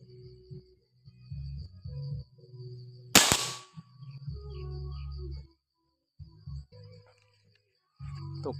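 A single sharp gunshot cracks during a bird hunt, loud and close, set against a quiet rural backdrop with low murmuring voices and a steady insect-like whine before and after.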